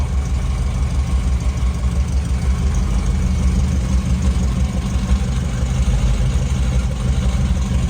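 A 1962 Chevrolet Impala engine with a mild cam idles steadily up close, a low, even, loping rumble lasting the whole time with no talking.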